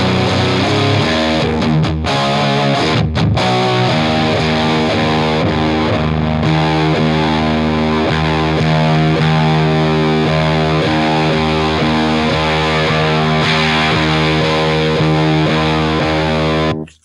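Heavily distorted electric guitar chords through a Drunk Beaver Seattle Driver grunge distortion pedal ring out loud and continuous, with a brief choppy start before sustaining into a thick, snarling, buzzing wall of sound.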